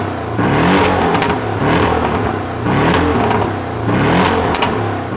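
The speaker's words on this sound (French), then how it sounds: "Donc ça, c'était valve ouverte" A Porsche Cayman 718 GTS engine revs repeatedly with its exhaust valves open, several loud rising-and-falling blips in close succession, a raspy roar close by with no talking over it.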